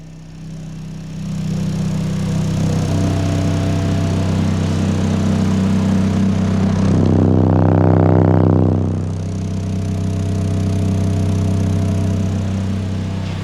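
A deep, steady low 33 Hz subwoofer hum fills the space, swelling louder for a few seconds in the middle before easing back to a constant drone.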